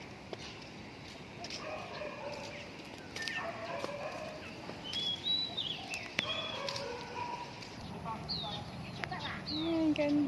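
Chickens cluck and crow in a lively outdoor yard in the morning, with a dog barking and a turkey gobbling among steady background hum.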